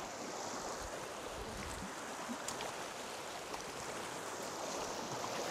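A flowing stream at a water-monitoring site makes a steady, soft rush with broadband burble and faint splashes. It runs continuously and unbroken by speech.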